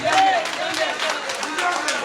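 Crowd at an SLPP political rally clapping and cheering together, a continuous dense wash of applause mixed with shouts and voices.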